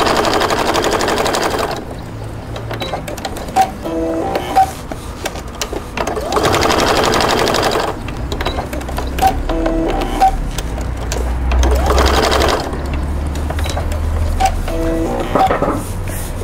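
A sewing machine stitching chenille fabric in short, rapid mechanical bursts of several seconds each, with brief pauses between runs, close and loud.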